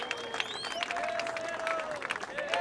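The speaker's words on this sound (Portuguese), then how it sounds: "Palmas, palmas, palmas, palmas, família." An audience at a rap battle claps in quick scattered bursts, with sharp whistles streaking over the steady patter, heard from a distance and fairly quiet.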